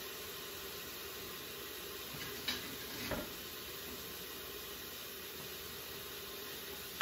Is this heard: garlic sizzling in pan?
yes